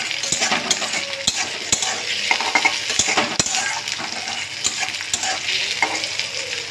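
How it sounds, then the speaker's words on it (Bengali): Onions and tomatoes fry in a pan with a loud, continuous sizzle, broken by regular sharp taps and scrapes of a utensil stirring against the metal. "পেঁয়াজ আর টমেটো কিন্তু দুটো ভাজা ভাজা হয়ে আসছে।"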